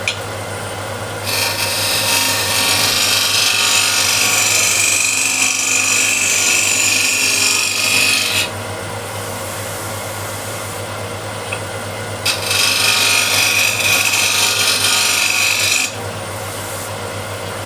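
A bowl gouge is ground on a bench grinder in two long, steady rasping passes with a pause between, all over a constant low motor hum.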